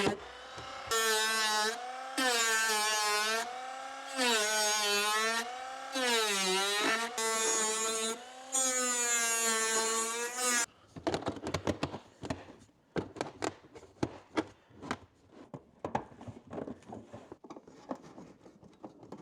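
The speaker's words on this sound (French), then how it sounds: "Pour ça, je pense que je vais le faire à la Dremel." A Dremel rotary tool whines in several sustained bursts with rising and falling pitch as it cuts a panel, then gives way to sharp taps and clatter of handling.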